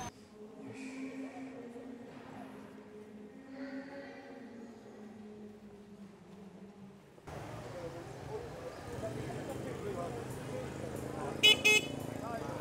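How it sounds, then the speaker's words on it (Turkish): A brief pair of car horn honks near the end, over busy street traffic noise in Hanoi, Vietnam, after a stretch of talking. "Kornaya basmana gerek yok."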